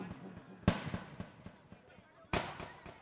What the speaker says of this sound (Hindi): भाई आतिशबाजी हो रही है